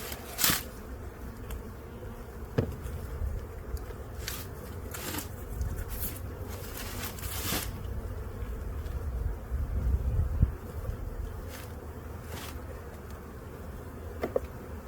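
Honey bees buzz steadily around propolis-coated hive boxes, a constant close hum broken by scattered knocks and scrapes of handled equipment.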